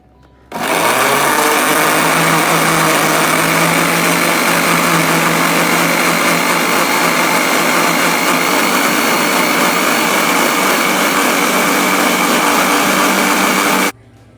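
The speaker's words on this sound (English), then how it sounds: "And then we'll blend it." A kitchen blender whirs loudly and steadily for about thirteen seconds, blending cucumber with sugar syrup for a summer detox drink, starting and stopping abruptly.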